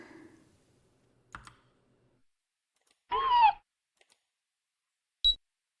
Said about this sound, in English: A sharp electronic sound returned from the control panel monitor.